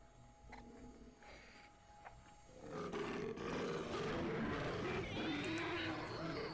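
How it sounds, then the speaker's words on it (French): A deep roar from a big cat swells up after a quieter start and holds loud and close, rumbling for several seconds. "un lion"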